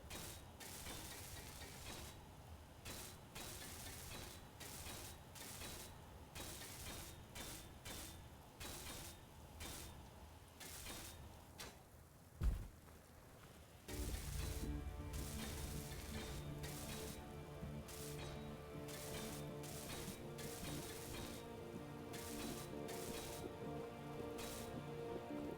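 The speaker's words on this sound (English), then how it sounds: "let's weld some of this up" A tool welds blocks in the game Space Engineers with a rapid ratcheting, mechanical chatter, a sharp clunk near the middle, then a denser, humming, grinding weld noise that runs steadily to the end.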